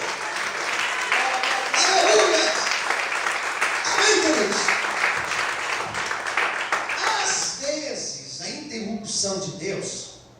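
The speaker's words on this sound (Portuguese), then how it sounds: "Você pode aplaudir e glorificar o Senhor por isso." A church congregation applauds at length, with voices calling out over the clapping before the applause thins and speech takes over near the end.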